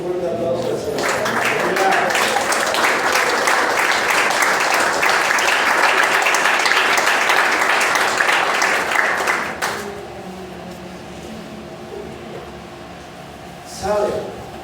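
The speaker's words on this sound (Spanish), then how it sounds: "Den un fuerte aplauso al Señor." A church congregation breaks into loud, sustained applause during a sermon, a steady roar of clapping that lasts several seconds before dropping away abruptly to quiet room sound and a faint voice.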